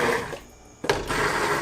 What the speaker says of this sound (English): it's best to put the blender straight down directly on the bottom of the pot